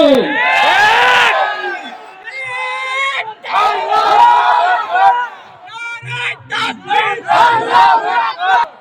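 A large crowd shouts the Allahu Akbar slogan in loud rhythmic call-and-response bursts, and the voices swell and repeat close by.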